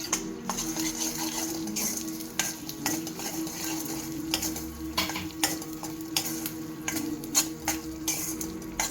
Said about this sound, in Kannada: ಉರಿ ಬಹಳ ಕಡಿಮೆ ಇರಬೇಕು ಮತ್ತು ಕೈಯಾಡಿಸ್ತಾನೆ ಇರಬೇಕಾಗುತ್ತೆ